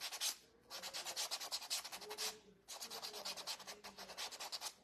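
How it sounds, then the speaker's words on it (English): Rhythmic sanding strokes scrape back and forth along lines on a painted wooden craft shelf sitter in quick bursts, with two short pauses, close up and fairly quiet. "I'm just sanding our lines to define our boards."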